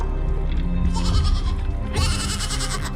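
Goats bleat loudly over a dense, constant background of music and other sound, with two drawn-out bleating calls in the second half.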